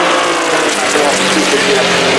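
A race car roars past at the Goodwood Festival of Speed in 2021, a loud, dense engine and wind wash filling the whole moment with a commentator talking over it.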